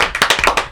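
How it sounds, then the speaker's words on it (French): A small studio group claps for guest Laura Pétard on a comedy talk show, a quick burst of close, loud, uneven claps from a few people. "On applaudit Laura quand même, les gars."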